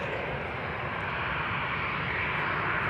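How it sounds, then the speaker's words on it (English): A 15-year-old EasyJet Airbus A319 jet lined up at Amsterdam Schiphol Airport gives a steady, loud, broadband roar of engines that grows slightly stronger toward the end, with no voices. "Lined up right now, A319 EasyJet flight 22512 outbound to London Luton."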